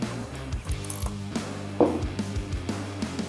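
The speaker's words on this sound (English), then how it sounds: "The go gauge, the bolt closes." Rifle bolt being worked and closed on a headspace go gauge during a custom rifle build, a series of close metallic clicks and clacks with a sharper snap partway through.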